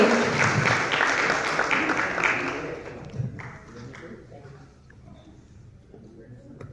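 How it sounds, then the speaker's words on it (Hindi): A crowd at an event in Lucknow claps loudly to welcome a speaker, the applause dense for a few seconds before thinning and fading into quieter room noise. "जोरदार तालियों से स्वागत कीजिए सर का, प्लीज जोरदार तालियों से"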